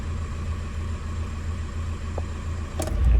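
A 1.9 TDI PD130 diesel car engine idles steadily after an oil change, a close, even low rumble with a slight knock before a heavier thump at the very end.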